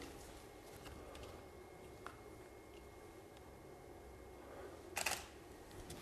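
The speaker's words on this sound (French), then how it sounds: "Donc à F4, je vais faire une première photo" A studio camera set to F4 fires its shutter once, a short crisp click near the end after a long quiet stretch of faint room hiss.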